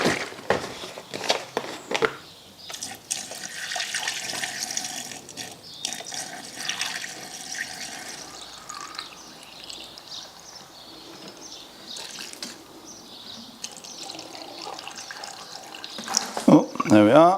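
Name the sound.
pouring screen wash fluid into car reservoir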